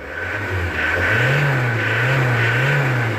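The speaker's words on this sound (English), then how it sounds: "Let's start this baby up. And let's see. Can I rev it?" A Ford Transit van engine, which had been failing to rev, is started and revved. It sounds close and loud, with the pitch rising and falling through a few short swells over a steady mid-range drone.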